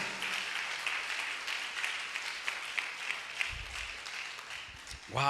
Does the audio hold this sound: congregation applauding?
yes